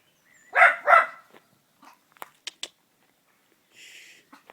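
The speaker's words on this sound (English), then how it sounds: "Dogs. Bane of my life." Dogs bark twice in quick succession, close and fairly loud, followed by a few faint clicks and thin high-pitched sounds in an otherwise quiet outdoor setting.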